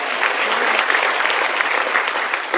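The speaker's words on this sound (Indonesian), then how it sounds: "tapi tepuk tangan saja" Dense, steady applause from a large audience at a business marketing-plan event in Jakarta, loud and continuous throughout with no break.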